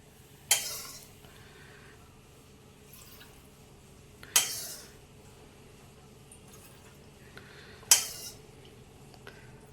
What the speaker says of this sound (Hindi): अब मैं कढ़ाई में से एक्स्ट्रा तेल निकाल लेती हूँ।